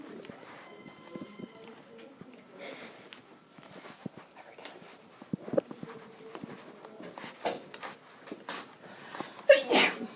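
A single sneeze in a classroom during a math lesson on circle equations, a brief burst amid faint room noise, shuffling and scattered small sounds.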